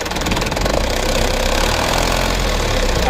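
A new car's engine running rough roars loudly and steadily up close, with a dense, throbbing low rumble and a knocking texture running through the whole stretch.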